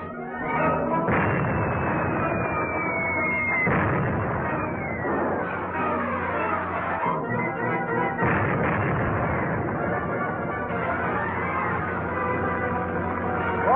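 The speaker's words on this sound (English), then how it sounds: "That's a 3-inch shell they're firing at us." Film sound effects of 3-inch artillery shells being fired and exploding fill the track with a dense, continuous barrage of booms and rumbling blasts, with whistling shells sweeping downward between the impacts.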